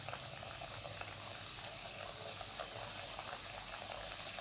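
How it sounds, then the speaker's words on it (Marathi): Wheat flour puris flavoured with kasuri methi deep-fry in hot oil, a faint, steady bubbling sizzle that carries on evenly throughout. "अशा सगळ्या मी तळून घेते."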